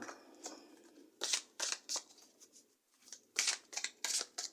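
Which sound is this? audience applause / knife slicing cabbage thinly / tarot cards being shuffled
tarot cards being shuffled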